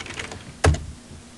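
Computer keyboard typing: a single sharp, loud keystroke cluster midway through, with quieter faint key clicks before and after.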